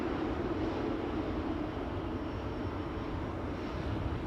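A Swiss Airbus A220 jet at Amsterdam Schiphol Airport, a steady loud engine roar that holds at constant strength without a break.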